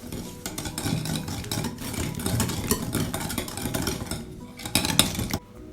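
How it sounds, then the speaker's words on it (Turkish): Eggs and sugar get whisked in a mixing bowl for a coconut cake batter, a continuous rapid clinking and scraping of the whisk against the bowl, close and loud, stopping abruptly at the end. "içerisine 1 çay bardağı şekeri de ilave ederek güzelce çırpıyoruz"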